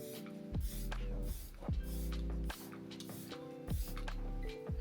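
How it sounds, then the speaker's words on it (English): Makeup by Mario setting spray hisses out in a few short bursts over steady background music, as the last step of a makeup routine. "The Makeup by Mario setting spray."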